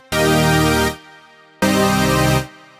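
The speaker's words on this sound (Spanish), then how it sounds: "varios dientes de sierra que son desafinados" A super saw synth lead built from several detuned sawtooth waves plays two loud, bright sustained chords, each held for about a second with a short gap between, heard alone.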